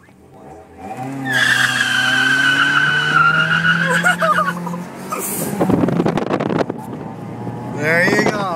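Tire squeal from a 1.6-liter five-speed Toyota Corolla skidding on a road and laying tire marks, a long loud screech with engine roar, followed by shouting voices and excited talk.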